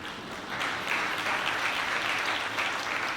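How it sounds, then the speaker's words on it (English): At an anniversary gala of the King Arts Complex, an audience breaks into steady, even applause that fills the whole few seconds without letup. "somebody should applaud that"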